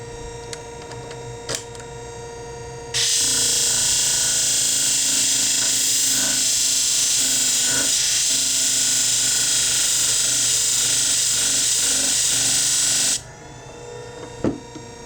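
Hair shears are sharpened on a Scimech Jr sharpening machine, which runs as a loud, steady high grinding whine for about ten seconds. A few small clicks come before it starts and after it stops.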